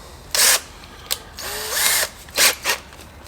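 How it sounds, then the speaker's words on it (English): A power drill bores into a part during a Ferrari 308 GTS rebuild, running in several short bursts of whirring with pauses between, close and fairly loud. "Why is my drill at such a weird angle?"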